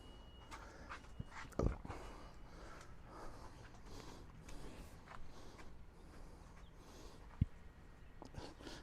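A dog nearby panting faintly and whimpering in short bursts, with a couple of sharp knocks, quiet overall.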